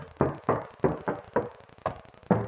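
Knuckles rap six times in an even rhythm on the front door panel of a Mitsubishi Lancer GLX, each knock close, solid and dull.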